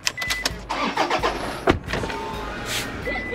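A car starting up on Koh Chang island in Thailand, with a brief crank and engine catching, then a steady running hum with a few clicks and thumps close by, no talk.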